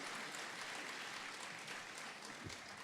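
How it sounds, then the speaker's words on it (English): Audience applause at a local live concert, a fairly quiet but steady wash of many hands clapping from a small crowd, continuous throughout with no talking over it. "Maybe you'd give him a round of applause because he needs a bit of encouragement."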